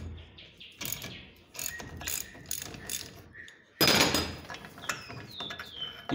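Ratchet wrench clicking rapidly in repeated bursts while bolts are loosened on a control arm bushing, close and fairly quiet, with short pauses and a louder stretch of metallic ratcheting near the end.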